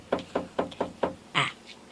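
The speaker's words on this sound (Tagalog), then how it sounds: "May kumakatok" Five evenly spaced knocks on a wooden door, close and clear, followed by a brief softer thud.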